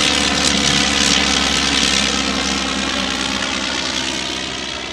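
A vintage Blackburn Monoplane's engine runs steadily and loudly up close, a continuous droning roar that eases slightly toward the end.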